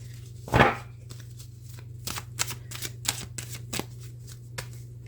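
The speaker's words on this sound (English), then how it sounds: "Using different shuffling techniques and spreading." Tarot cards handled close up: a sharp riffle burst, then a series of crisp snapping taps and flicks as the deck is shuffled and spread, over a low steady hum.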